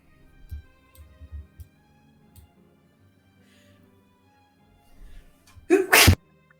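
A single sharp sneeze bursts out near the end after a quiet stretch with faint ticking and soft low thumps.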